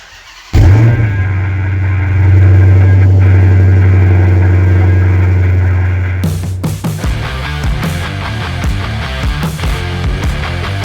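A junkyard-built gasser car runs under its own power, its engine holding a loud, steady low drone for several seconds before giving way to rougher, clattering mechanical noise and rattles near the end.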